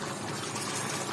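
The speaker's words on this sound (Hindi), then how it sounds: "और इसको भाप निकल रहा है चिकन में से, और ये गुलगुल गुलगुल कर रहा।" Chicken curry with kasuri methi simmering in a pan, giving off a steady, close, moderately loud bubbling and gurgling with no talk over it.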